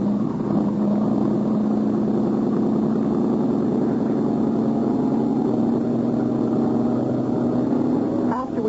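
A boat engine revs up and holds a steady, loud low drone on open water, running continuously for several seconds.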